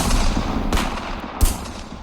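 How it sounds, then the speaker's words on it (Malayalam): Two sharp revolver shots crack out about a second apart over a dense, rumbling background of noise. "ശാന്തമായ ആ പ്രഭാതത്തെ പിളർന്നുകൊണ്ട് വെടിയൊച്ചകൾ മുഴങ്ങി"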